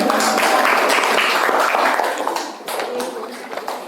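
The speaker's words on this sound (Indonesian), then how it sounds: "Kasih tepuk tangan." Classroom applause from students after group 5 finishes presenting their project, a burst of many hands clapping that dips midway and then continues with scattered, looser claps.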